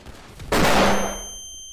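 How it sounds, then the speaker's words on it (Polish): A single sharp blast from an explosion or gunfire in GTA V, a sudden loud bang that rings out and decays over about a second, with no talking. "Uwaga, jakieś wybuchy."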